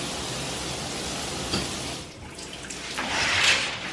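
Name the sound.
shower running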